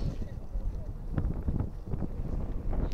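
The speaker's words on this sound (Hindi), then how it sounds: "असल में बहुत ज़्यादा हवा चल रही है" Strong night wind blowing outside in Mecca, roaring and buffeting the microphone in continuous low gusts with some rustling.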